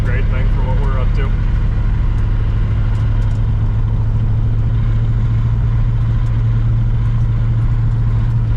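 A 1970 Pontiac Grand Prix with a four-speed manual, its engine droning steadily and loudly while driving on quiet hill roads, a constant low rumble with road noise throughout and a voice speaking over it.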